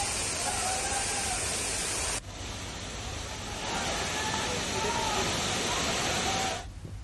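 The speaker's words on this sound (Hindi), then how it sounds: "काफी तेज बहाव है झरने का" A strong, fast-flowing waterfall roars as a steady broadband rush that fills the scene at close range, with a few brief faint tones over it and a sudden drop in level midway through.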